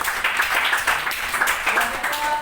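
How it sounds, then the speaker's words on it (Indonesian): Classroom applause for a student's correct answer at an Islamic school lesson: dense, steady clapping from a group of students lasting a couple of seconds, fairly loud and continuous without talk. "Berikan tepuk tangan."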